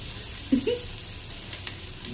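Mutton frying in a pan with a little oil, giving a steady low sizzle with a couple of brief louder spatters near the start, close and alone without talk.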